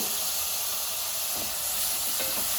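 Washed dried shrimp dropped into a hot pan, a steady loud sizzle and hiss with no voices.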